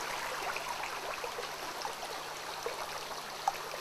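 Water flowing along an acequia irrigation ditch, a steady gentle trickling and babbling with occasional small drips, close and continuous with no voices.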